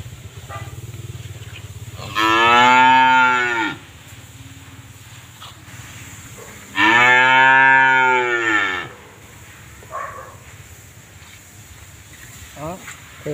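Male cattle newly brought in for sale, mooing in two long, loud, drawn-out calls with a pause between, over faint background noise in the evening outdoors.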